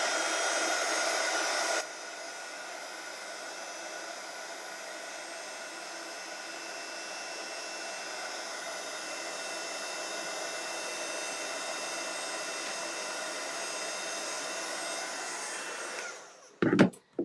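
A heat tool blasts hot air over embossing glitter on a stamped greeting card, a steady close whooshing roar that drops slightly in level after two seconds and runs on alone before stopping with a couple of clunks.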